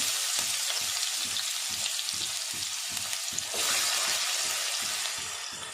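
Chopped large onion frying in a pan for idli kuruma gives a steady close sizzle over a rhythmic low scraping pulse, and the hiss surges brighter partway through.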